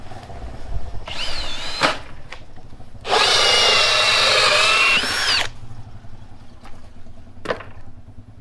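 A cheap hole saw boring through a piece of wood under a garage: a drill whirs briefly, then a loud sustained cutting whine for about two seconds, followed by short bursts as the bit spins down, close and without talk.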